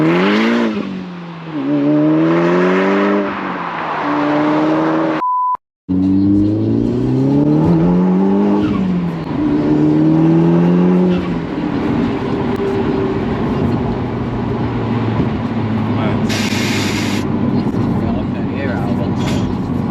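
A tuned Audi S3 8P Sportback with about 450 bhp on air ride accelerates hard, the engine climbing through several gears with sharp pauses between shifts, loud from inside the cabin, with people talking at times.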